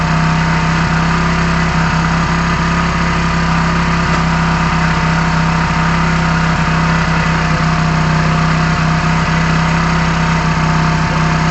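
A Hero HF Deluxe motorcycle engine holds a steady hum around 4000 RPM, a constant, close, loud drone with an even pulse and no voices.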